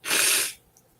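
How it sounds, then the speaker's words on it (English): A single loud, close sneeze bursts out with a breathy hiss, followed by a moment of near silence. "you can't get rid of the sneezes"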